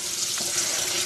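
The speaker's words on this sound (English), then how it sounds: "Put some water in it." Water pouring into a pan from a tap, a steady close splashing rush lasting about a second with no talk.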